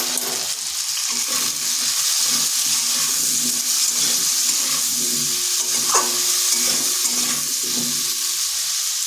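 Potatoes fry in a covered pan over medium heat, giving a steady, close sizzle with occasional stirring scrapes and no voices.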